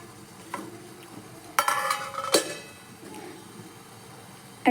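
Lid lifted off a pudding steamer pot holding caramel egg pudding: soft clinks and a sharp metallic scrape, then a rattle, close over a quiet room.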